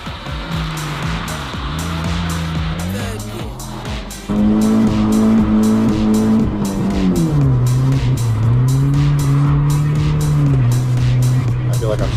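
A BMW drifts on a race track, its engine droning loudly and rising in pitch through gear changes while tires squeal in sustained bursts, heard from inside the car.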